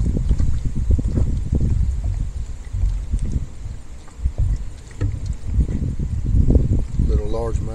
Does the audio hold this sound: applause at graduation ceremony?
no